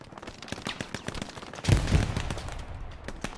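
Rapid rifle and machine-gun fire crackles through a World War II infantry battle in Hell Let Loose around Sainte-Mère-Église, sharp repeated reports near and far, thickening into a dense burst midway.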